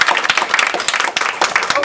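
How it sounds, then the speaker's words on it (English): Audience at an improv comedy show clapping and cheering in a steady, dense burst that fills the room, with a few louder whoops rising out of the applause. "Clap if you've seen a Twin Prov show before."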